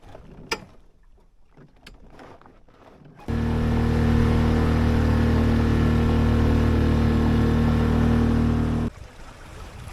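A 6 hp Tohatsu outboard motor runs offshore on a boat, a loud, steady droning hum that cuts in abruptly, holds evenly for several seconds, then stops.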